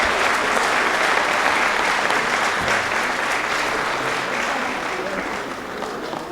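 A conference hall audience at a Renacer gathering in Chile breaks into sustained, dense applause that carries on evenly and tapers slightly near the end, with some voices mixed into the crowd.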